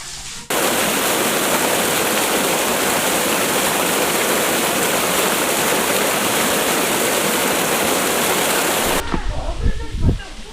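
A waterfall pouring at a forest site, a loud, steady roar of falling water filling most of the clip before cutting to quieter ambience with a few knocks near the end.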